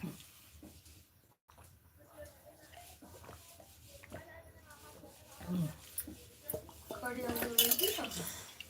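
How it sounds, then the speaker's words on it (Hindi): Dishes, pots and utensils are washed, with faint clinks and metallic knocks scattered under ongoing conversation in a domestic setting. "बर्तन धो बेटा"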